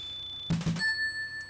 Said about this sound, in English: I'm sorry, my phone was going off